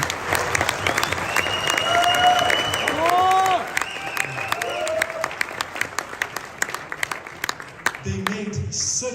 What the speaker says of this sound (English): please kindly make a round of applause for the developers of ZENIQ